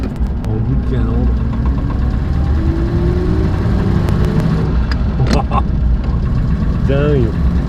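A 1939 Buick Special's engine revs and accelerates close by, a loud mechanical drone with rising and falling pitch, while someone talks over it in French.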